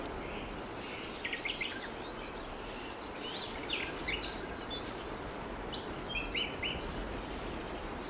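Birds feeding in rowan trees in the autumn mountains, chirps and short calls scattered over a steady breezy rustle, fairly faint and distant with no voices.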